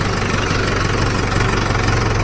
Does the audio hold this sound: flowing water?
no